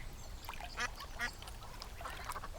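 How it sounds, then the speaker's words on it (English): Ducks in a Thomas & Friends cartoon quack a few times at Fenland track, soft and fairly distant over a faint background hum. "The ducks are very happy."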